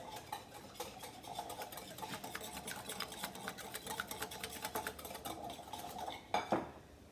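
A spoon clinks and scrapes steadily around a bowl while sour cream, milk and flour are mixed into spaetzle batter, a close, continuous run of rapid metallic taps with one louder knock near the end.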